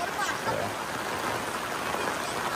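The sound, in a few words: heavy rain in a Konkan village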